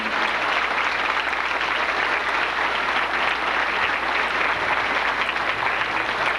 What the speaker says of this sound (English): Let's have one final large round of applause for all of the seniors in our football program.